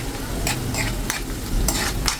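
A spoon stirs melted butter and annatto powder in a pan, scraping in a few quick strokes over a low sizzle, close by with no talking.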